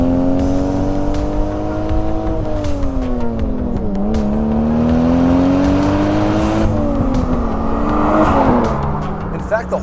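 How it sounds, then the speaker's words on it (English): A Toyota Supra with intake and exhaust modifications accelerating through gears, a loud close engine note with pronounced turbo whistle, pitch climbing and dropping at each shift, and a voice speaking over it. "the exhaust noise is completely trumped by turbo noise"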